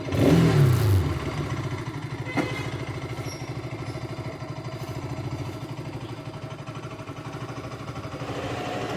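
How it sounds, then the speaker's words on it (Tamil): A motorcycle engine runs steadily with a low, even rhythmic chug, louder and rougher for the first second before settling, with no talk over it. "வண்டி கரெக்டாக அடிக்க ஆரம்பிச்சிச்சு."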